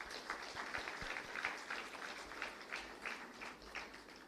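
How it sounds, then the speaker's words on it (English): Audience at a live journal launch event applauds the dignitaries, steady dense clapping held at a moderate level, a little distant, throughout the stretch with no talk over it. "let us give a huge round of applause to all our dignitaries"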